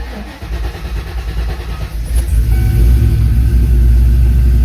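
A car engine on standalone EFI cranks briefly and then fires, settling into a loud, steady low idle rumble close to the microphone.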